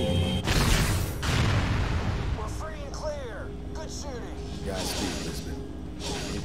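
A painted target blows up in a video game: a loud booming blast at the start, followed by fainter pops and whistling effects, with a voice talking over it.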